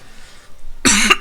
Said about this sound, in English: This cough has been sticking around like crazy.